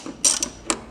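A half-inch socket wrench works a nut on a battery terminal, giving two quick ratcheting clicks then a third, sharp and close, with no one talking.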